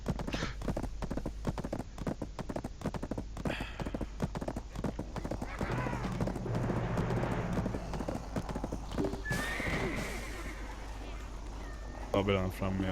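Video game horse galloping with rapid, steady clip-clop hoofbeats close up, joined by a whinnying neigh midway, while players chat over it.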